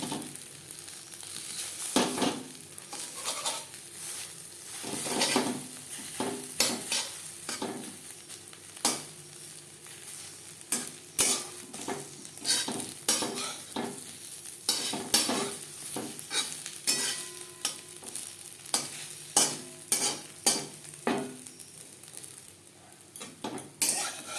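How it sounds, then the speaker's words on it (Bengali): An egg omelette in a frying pan is chopped into pieces with a metal spatula, giving repeated sharp scraping clinks and taps over a soft ongoing sizzle, close and irregular throughout. "এইভাবে খুলতির সাহায্যে আমি টুকরো করে নেব"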